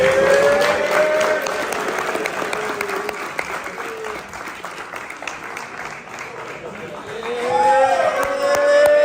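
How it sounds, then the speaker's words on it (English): A crowd applauds a Jackson State football team gathering, with loud, sustained clapping and some cheering that dips in the middle and swells again toward the end. "can we please bring a round of applause?"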